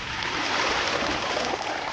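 Water pours steadily into a cooking pot for boiling yellow-fat beef ribs on the Inner Mongolian grassland: a continuous, fairly loud rushing splash with no pauses, and no voices.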